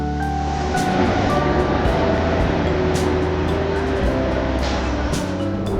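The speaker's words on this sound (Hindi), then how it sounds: "मुंबई की लाइफलाइन है लोकल ट्रेन" Steady loud rumble of a Mumbai local commuter train in motion between Dadar and Andheri, constant rattling noise with a faint whine running throughout.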